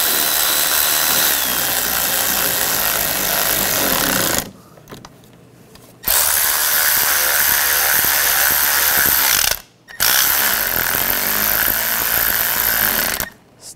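Screws on the fuel injectors of a 2004-2009 Toyota Prius are driven down with a power tool, sounding as three sustained, loud whirring runs separated by short pauses, close up with no talk.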